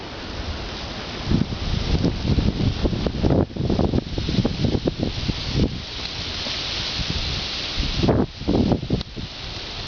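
Gusty night wind in Hematite roars across the microphone in surging bursts, rising and falling over about ten seconds with rustling bluster and no voices.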